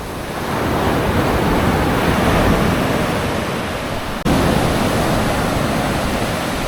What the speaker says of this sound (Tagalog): Lakas ng alon, no? Ang laki.